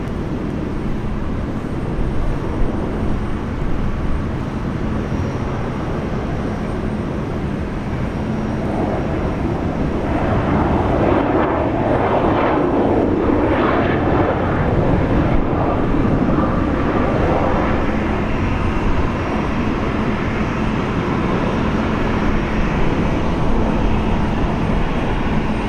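An airliner takes off from runway 19 left at Brisbane Airport with a loud, continuous jet roar that swells in the middle and holds steady throughout, with no voices.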